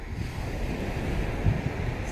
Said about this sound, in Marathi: समुद्र किनाऱ्यावर एक सफर